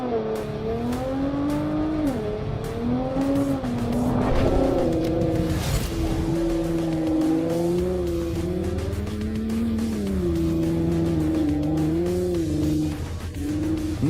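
Nissan GT-R accelerating hard on a snowy track, a loud engine revving and climbing through gears with pitch rising and falling through shifts, steady and close for the whole stretch.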